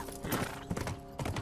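Horse hooves gallop in The Last of Us video game, a steady, loud, close clip-clop rhythm filling the whole moment against a dense game soundscape.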